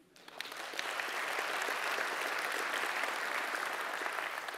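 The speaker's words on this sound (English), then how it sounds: "one round of applause for the program committee." Applause from a conference audience at a tech event opening, swelling quickly from a hush into sustained, even clapping that continues strongly to the end.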